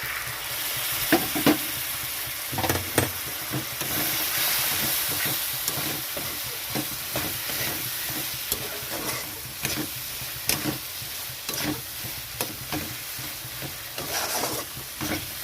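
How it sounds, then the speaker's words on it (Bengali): Masala for a fish head curry is stirred and fried in a pan with a little added water, giving a continuous close sizzle broken by repeated scraping strokes of the spoon and with no talk. "এখানে আর একটু জল দিয়ে দিচ্ছি মশলাটা কষানোর জন্য"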